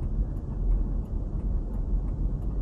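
Car hazard lights tick in a steady, faint rhythm, roughly three per second, beneath a loud low rumble from a vehicle broken down in a remote spot.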